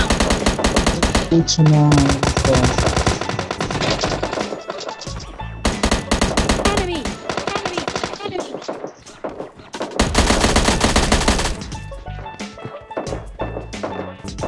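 Bursts of automatic gunfire in a PUBG Lite match, rapid repeated shots in several long volleys with short gaps, loud and close, with a voice briefly heard among them.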